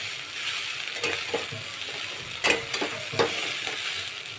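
Egg chowmein being stir-fried in oil in a pan, a steady close sizzle with a few sharp scraping clinks of the utensil against the pan scattered through it.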